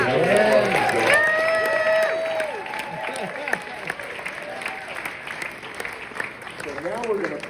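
Audience applause at a jazz club gig for the house band soloist, clapping mixed with tonal band sounds and some talk early on, fading into lighter scattered claps.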